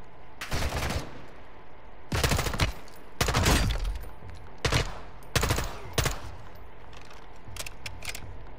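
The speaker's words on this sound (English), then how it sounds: "Where am I getting shot from?" Gunfire in a Call of Duty: Modern Warfare 2 match, loud bursts of automatic shots in several separate volleys, some long and rattling, others short, with no voices.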